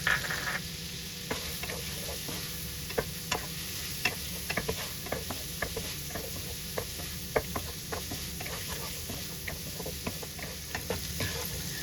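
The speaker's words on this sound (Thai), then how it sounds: "ตอนนี้เราก็ปรุงรสชาติเรียบร้อยแล้วก็ผัดจน กุ้งของเราเนี่ยสุกดีแล้วนะคะ" Shrimp stir-fried with garlic butter in a pan, giving a steady sizzle with regular scraping stirs and clacks of a utensil throughout, fairly faint and with no talking.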